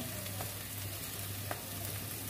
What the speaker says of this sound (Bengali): একটা একটা করে আমি ভেজে নেব